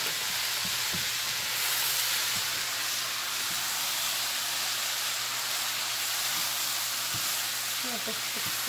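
Cauliflower fried rice frying in a pan, a steady loud sizzle and hiss that runs throughout, with occasional faint stirring scrapes and a voice speaking briefly underneath.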